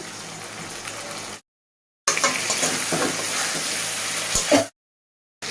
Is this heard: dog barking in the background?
no